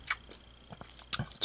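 Crispy fried chicken nuggets bitten and chewed close up, a few quiet crunchy bites and soft chewing clicks spaced out over a short moment.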